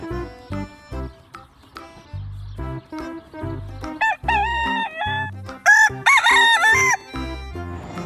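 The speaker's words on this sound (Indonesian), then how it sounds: "Ini ada ayam jantan." A rooster crows loudly several times in a row, each call rising and wavering, with clucks and other farmyard sounds between.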